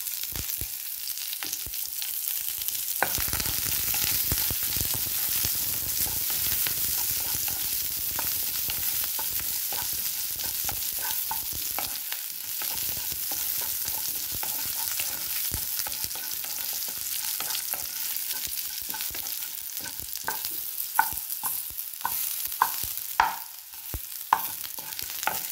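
A tempering of dried red chillies, curry leaves and onion pieces sizzles steadily in hot oil for a coconut curd chutney, with occasional clinks of stirring throughout.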